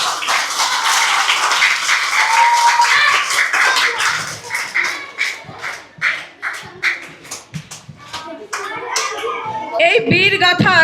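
Loud clapping fills a primary school Children's Day prize-giving, starting as a dense wash, then breaking into separate sharp claps near the end, with children's voices and chatter underneath.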